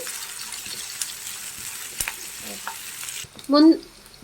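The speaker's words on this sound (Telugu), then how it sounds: "ఇవైతే ఆయిల్లో వేసుకొని ఫ్రై చేసుకుందాం." Green chillies and a bay leaf fry in hot oil, giving a steady low sizzle with a few light stirring scrapes, then a brief sharper burst of spitting near the end.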